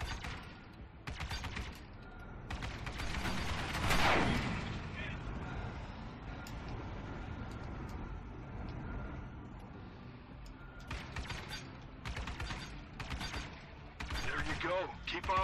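Enemy ship weapons fire in the space game Star Citizen, loud rapid bursts of energy shots in clusters with a swelling whoosh and mechanical hum between them, over a continuous engine drone.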